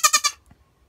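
A goat in a straw-bedded barn gives one short, close, wavering bleat of three quick pulses, then falls quiet.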